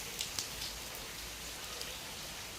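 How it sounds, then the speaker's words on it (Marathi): Steady heavy rain pours down in a dense, even hiss, with a few louder drops tapping nearby. "खूप पाऊस जोराचा चालू आहे"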